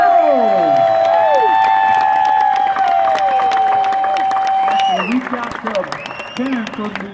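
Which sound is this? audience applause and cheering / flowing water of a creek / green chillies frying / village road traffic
audience applause and cheering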